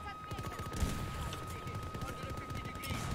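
Rapid bursts of automatic gunfire crackle continuously in a Battlefield 2042 firefight, with a steady electronic tone running through the dense, rattling shots.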